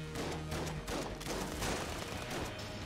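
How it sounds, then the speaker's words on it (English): An auto shotgun fires during a boss fight in the video game Enter the Gungeon, a dense, loud, unbroken barrage of overlapping blasts lasting the whole moment with no talking. "Let's go with the auto shotgun and see how this fares."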